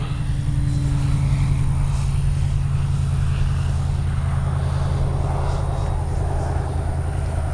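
A radio-controlled F4U Corsair model warbird passes with its engine droning loud and steady, a continuous buzzing hum that holds close throughout.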